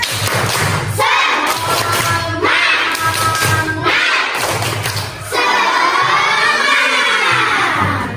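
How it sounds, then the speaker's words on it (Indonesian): Schoolchildren in a classroom perform a rhythmic 'tepuk semangat' clapping chant, with loud bursts of claps and thumps mixed with energetic group shouting that run through the whole stretch. "kita tepuk semangat dulu ya"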